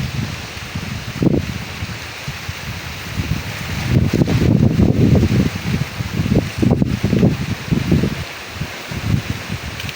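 Wind gusts through foliage, leaves rustling in a steady hiss with louder surges midway, close and broadband, no voices.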